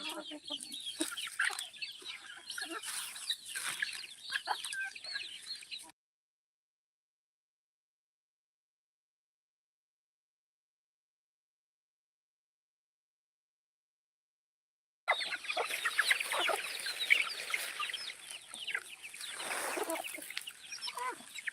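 Free-range country chickens on a village farm cluck and chatter in a busy, fairly faint flock, in two stretches split by a long silent gap.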